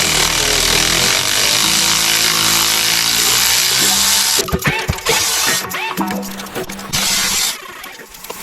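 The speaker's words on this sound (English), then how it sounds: "first thing we're going to do is use that 10mm wrench socket, remove all there's 12 bolts to hold that diff cover on" A ratchet fitted with a 10mm socket spins out the bolts on a Jeep Wrangler differential cover, a loud, close, fast clicking that runs steadily, then breaks into short bursts with pauses between.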